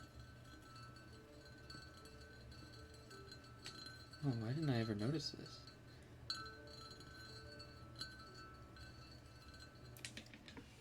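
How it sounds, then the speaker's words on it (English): Glass tapped and clinking during a live ASMR session, a few soft, sparse taps sitting quietly under close, gentle talking. "This glass actually makes kind of a fun sound."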